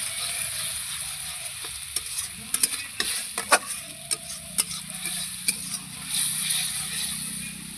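Bengali spice masala fried with a little water for a bitter gourd rezala: a steady soft sizzle runs throughout, broken by sharp, irregular spoon clicks and scrapes against the pan.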